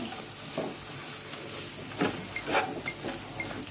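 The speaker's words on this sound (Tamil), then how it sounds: "நல்லா ஒரு மிக்ஸ் கொடுத்துக்கோங்க" Soft scraping and stirring of paneer biryani with yogurt in a pan with a faint sizzle, a few brief louder scrapes standing out over steady low background noise.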